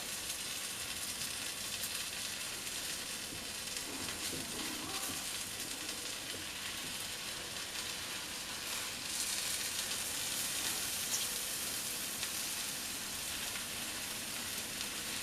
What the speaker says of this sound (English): please always cook the dosa in the medium flame